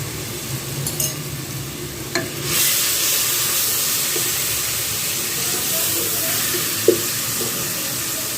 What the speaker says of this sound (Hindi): मीडियम फ्लेम कर दें और इसको थोड़ा सा अच्छे से भून लें।